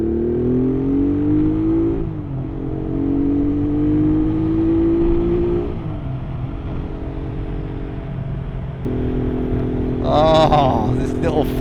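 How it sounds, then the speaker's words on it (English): A Honda Bros (Hawk GT) motorcycle engine drones and revs up in steady pulls, the pitch climbing and dropping between gear changes, with a brief voice near the end. "Let's give it some revs."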